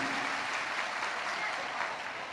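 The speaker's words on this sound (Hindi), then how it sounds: "एक बार जोरदार ताली बजाकर स्वागत वंदन अभिनंदन है।" A large gathering at a Shiv Mahapuran religious discourse in Varanasi applauds to welcome Yogi ji, a dense, even wash of clapping that holds steady and sounds somewhat distant and soft.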